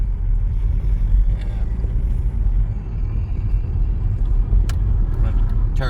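A car engine turning about 1,100 RPM in third gear at 20 mph on a Highlands road, a steady low rumble with road and cabin noise close up, and a few faint clicks near the end.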